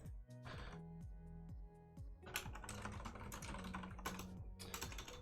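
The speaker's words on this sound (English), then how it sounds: "I'm typing import optional." Rapid, uneven keystrokes on a computer keyboard while writing code, close and clear, with steady clatter through most of the stretch and no talk.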